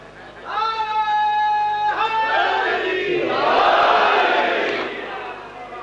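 A crowd at a Shia majlis gathering raises a loud, sustained religious slogan chant in unison, swelling from sung, drawn-out voices into a fuller roar of many people.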